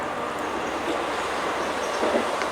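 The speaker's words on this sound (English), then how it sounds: "you can hear how close the railway is" A train passes on a nearby railway hidden beyond bushes. A steady rumbling rail roar holds for a few seconds and stays continuous, with no voices over it.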